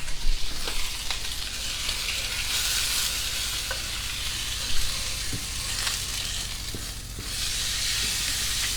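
Steak searing in a cast iron pan, a steady close sizzle and hiss with occasional pops and crackles, no voices over it.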